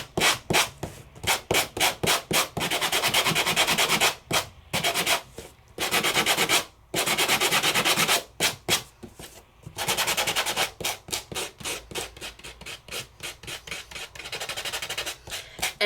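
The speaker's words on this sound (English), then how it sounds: "Then you take a sanding block. This is Couture Creations sanding block." A Couture Creations sanding block scrubs over embossed paper in quick rhythmic back-and-forth strokes, close and crisp, with short pauses between bursts of rasping.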